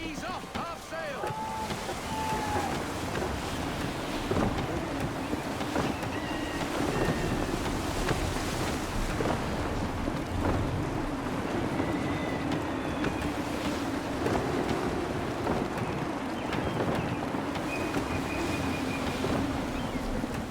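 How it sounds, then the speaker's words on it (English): Wind and sea surge around a sailing ship in Assassin's Creed 3, a steady broadband rush of gusts and water with creaking and faint tonal sounds, continuous for the whole stretch while speech runs over it. "Gusty winds can be difficult to manage."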